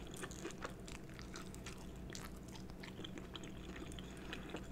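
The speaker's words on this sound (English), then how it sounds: "That crunch though." Someone bites into battered fried chicken, producing a run of sharp, close crunches and chewing crackles over a low steady background, with no talking.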